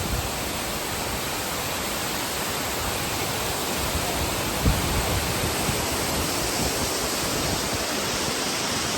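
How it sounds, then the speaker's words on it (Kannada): Water pours beside a waterfall at the Bheemeswara shrine as a dense, even rush that stays loud and unbroken throughout, with one faint thump midway and nobody talking. "ಪಕ್ಕದಲ್ಲಿ ಹರಿತಾ ಇರೋ ನೀರು ಬಂದ್ಬಿಟ್ಟು ಅರ್ಜುನ ಬಾಣ ಬಿಟ್ಟು ತರ್ತಿರೋ ನೀರು."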